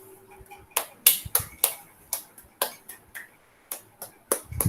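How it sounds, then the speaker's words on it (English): Children clap during an online junior kindergarten class, making a run of sharp, uneven claps of varying loudness, a dozen or so over a few seconds, with no talk. "Big claps for those who have completed."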